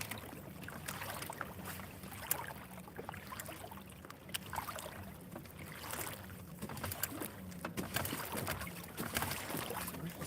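A small fishing boat's engine idling slowly while trolling along a shoreline, a continuous low rumble mixed with water wash and wind noise, steady and unbroken, with no talking.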